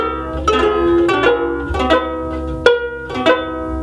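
A custom ukulele built from a Mahalo neck and a Cadbury Roses tin body is strummed in a few bright, slightly metallic chords with a clear rhythmic pattern up close.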